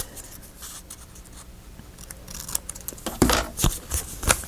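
Paper corners are trimmed for a recipe journal pocket, with soft scratchy cutting and rustling that builds into a few sharper, louder snips near the end, close by with no talk.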